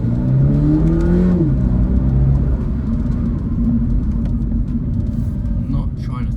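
A 2023 Subaru BRZ engine pulls up through the revs and then settles into a steady, muffled rumble, as if from inside the cabin with a window cracked, with faint road noise underneath.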